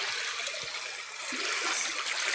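A creek swollen by heavy rain trickles and babbles steadily nearby, a continuous bright rush of running water with no voices.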